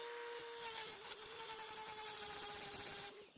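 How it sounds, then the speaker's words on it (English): A Dremel rotary tool cutting a hole in a basketball backboard mounting part gives a steady high-pitched whine held close and constant for a few seconds before spinning down at the end. "So now you just Dremel the hole."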